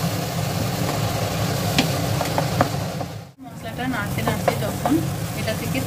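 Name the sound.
spice masala being stir-fried for jackfruit curry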